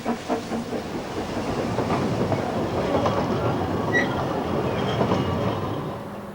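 A Ffestiniog Railway narrow-gauge train rumbles along steadily with rhythmic clattering of wheels on track, plus faint squeals and clanks from the carriages.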